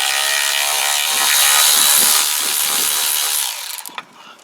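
A ratchet socket wrench clicks rapidly and loudly at close range while parts come off a scrapped Kawasaki GPZ500S motorcycle, then stops and is followed by a few separate metallic clicks.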